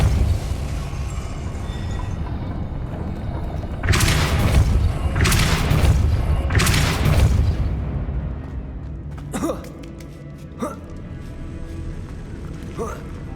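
A Depulso spell is cast in Hogwarts Legacy, producing a few loud whooshing bursts with deep thuds in quick succession, followed by sharper lighter impacts, over a constant low game ambience.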